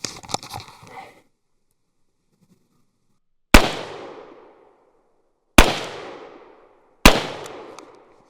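Three loud, sharp rifle shots from an IWI Galil Ace 5.56, spaced a couple of seconds apart, each with a decaying echo, after a brief rattle of handling noise at the start.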